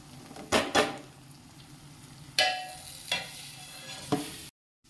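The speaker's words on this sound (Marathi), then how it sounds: "आता इकडे आपली फोडणी झालेली आहे तर त्याच्यात भाजलेला रवा आपण टाकून घेणार आहोत" Several scraping, stirring strokes in a pan with a light sizzle underneath, coming in a few distinct bursts before a sudden cut to silence.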